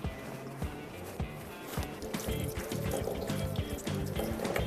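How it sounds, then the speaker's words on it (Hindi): Running water splashes over hands at a kitchen sink during cooking, a continuous close trickle and patter with small knocks and clatters mixed in. "हाथ में ज़रा धो लूँ।"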